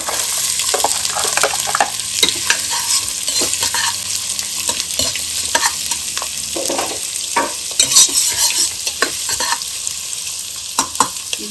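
Onion frying in hot oil in a pressure cooker pan gives a steady close sizzle across the whole stretch, with occasional scrapes and stirs.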